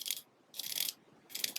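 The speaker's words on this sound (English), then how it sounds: "It is a unidirectional bezel, so you can only turn it counterclockwise," Seiko Shogun dive watch's unidirectional bezel ratchets around in three quick bursts of crisp, close metallic clicks separated by brief pauses, with no talking.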